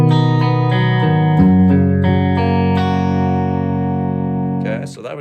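Sustained electric guitar notes ring with harmonics, pitch-shifted down a half step by a Boss XS-1 Poly Shifter pedal, shifting in pitch with each new strum before fading at the end, heavily processed and loud.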